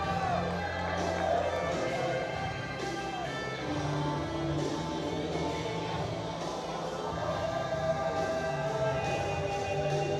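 A crowd of fight fans cheers and hollers at a live fight event in Spartanburg, South Carolina, a steady moderate roar of voices with no clear single speaker.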